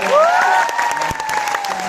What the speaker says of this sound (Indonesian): Boleh tepuk tangan sekali lagi buat